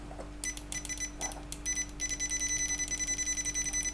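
A UNI-T UT61E multimeter in continuity mode gives a series of quick, steady electronic beeps, close and clear, starting after a brief pause and repeating rapidly over a constant low hum.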